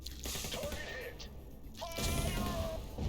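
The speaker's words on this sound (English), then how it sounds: "That was a big explosion." A big explosion in the turn-based tactical video game USC Counterforce, a loud crashing blast with a sharp burst near the end, layered over game sounds without any clear talk.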